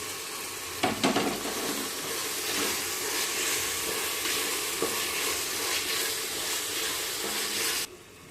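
Cut potato pieces dropped into a frying red chickpea curry base with tomato, giving a steady loud sizzle and hiss throughout, with a brief burst of clatter near the start and no talking.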